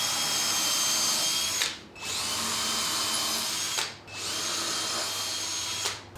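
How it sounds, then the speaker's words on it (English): A power drill whines steadily through wood in three long bursts, drilling out divots left by a Forstner bit, with brief pauses between as the bit is pulled out and repositioned. "I'm going to drive a hole through every single one of those divots"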